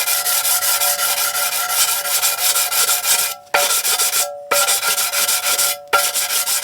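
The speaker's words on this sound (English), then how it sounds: "further clean" A Ford EcoBoost 1.0 engine's sump gasket surfaces get scrubbed clean in continuous, close, hissing rubbing strokes, broken by two or three brief pauses.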